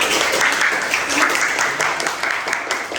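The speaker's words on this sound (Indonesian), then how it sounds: "Berikan tepuk tangan yang semangat." Students in a classroom clap for a group after its presentation, a brisk, continuous burst of many hands with voices mixed in.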